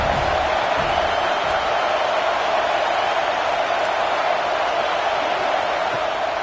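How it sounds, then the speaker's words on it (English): A football stadium crowd grows loud on third down, a thick, unbroken roar of voices holding at high volume throughout, distant and blended with no single voice standing out. "Decibels rising as the crowd gets behind this defense on third down."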